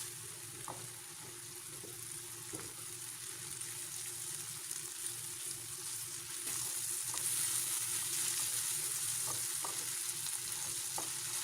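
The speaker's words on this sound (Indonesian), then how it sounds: "Diaduk-aduk dan ditumis sampai matang." Tomato, shallots and chillies sautéing and being stirred in a pan, a steady close sizzle with occasional light spatula taps, growing slightly louder toward the end.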